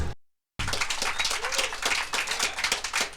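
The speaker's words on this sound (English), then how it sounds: "And that's where I found this clapping sound." Crowd clapping sampled from a vinyl record and played back on an MPC 2000 XL sampler, a steady wash of many hands after a brief silent gap, moderately quiet.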